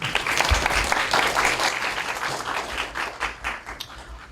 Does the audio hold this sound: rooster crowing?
no